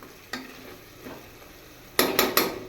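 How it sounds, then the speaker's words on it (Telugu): Salt and spices going into a homemade chicken curry as a spoon stirs the pan: a few soft scrapes, then three quick, louder metallic knocks near the end, close by with no talk. "ఇవన్నీ వేసేసుకుని కలిపేసుకుందాం."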